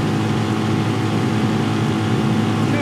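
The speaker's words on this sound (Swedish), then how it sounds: "Hör att motorn varvar över lite grann" A 15 hp outboard motor pushes an aluminium RIB boat at about 20 knots, its steady loud drone revving slightly high with water rush throughout.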